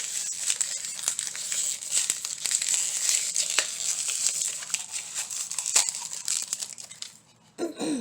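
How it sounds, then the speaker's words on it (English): Plastic packaging crinkles and crackles steadily for several seconds as craft supplies are pried open, close and fairly loud, ending in a brief pause and a few softer rustles. "And all that crinkling sound."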